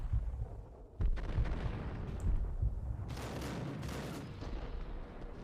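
Repeated gunfire bursts and heavy impacts from the video game Max Payne, played on Dead On Arrival difficulty. Loud, dense shots come in irregular clusters, with sharper cracks around the middle and near the end, and no voices.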